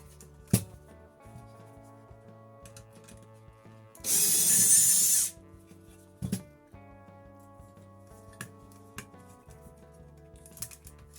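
Screws are backed out of a scrap aluminum circuit board with a ratcheting screwdriver, giving sparse close clicks and ticks, with a loud harsh burst of noise in the middle.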